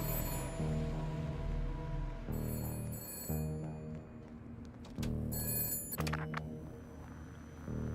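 A payphone in the video game Shadows of Doubt rings with repeated electronic bell bursts, steady and fairly clear, separated by short pauses against faint background music.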